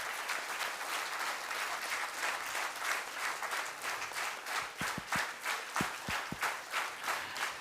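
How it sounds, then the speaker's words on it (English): Audience applause for a group of tea volunteers at a Dr. Divya Jaitly event on empowering the self: sustained dense clapping that thins out toward the end into a few separate, louder individual claps. "let's once again give a big round of applause to them"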